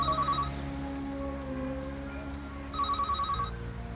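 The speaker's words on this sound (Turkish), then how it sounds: "Telefon çalıyor." A telephone bell rings in two short, insistent bursts at the start and end, with a low steady hum continuing between them.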